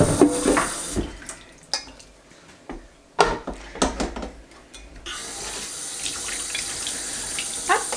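Running tap water with clattering and scrubbing of a frying pan in a sink, the flow steady at first, broken by knocks, then pouring continuously again.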